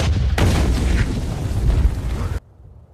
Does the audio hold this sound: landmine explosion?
yes